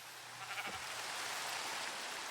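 A sheep bleats briefly and faintly in the Minecraft video game, a single short call half-buried in a steady background hiss.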